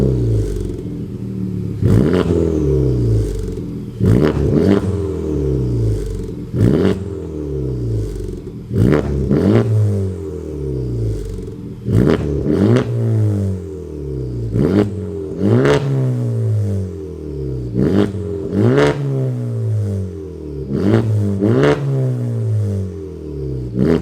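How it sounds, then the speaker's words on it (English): A Honda Civic Type R fitted with an AWE exhaust revs over and over in a regular rhythm, each sharp, loud throttle blip rising and then falling back, close by with no talking. "Let's get to revving this car up and see what she sounds like."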